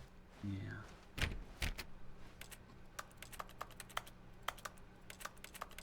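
Glass tapped repeatedly inside The Stanley Parable video game, sharp light clicks coming in an irregular typing-like rhythm, moderately close and faint, after a brief voice at the start.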